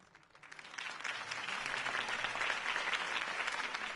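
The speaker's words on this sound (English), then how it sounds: "If only Mr. Wayne, my campaign's largest backer, could have heard that applause" Crowd applause in the Batman Telltale video game after Harvey Dent's campaign speech, swelling from a quiet start into sustained, dense clapping from a large audience.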